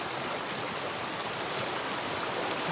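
Steady broadband rush of water from a river in a remote trout creek, continuous and even, with no voices over it.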